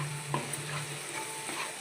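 Gongura (sorrel leaf) paste frying in a pan, a steady close sizzle with a few light stirring scrapes, no voices.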